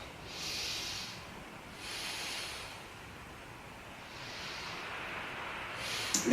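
Slow, deep yoga breaths, three long soft hissing exhalations spaced a couple of seconds apart, close and quiet, with no talking.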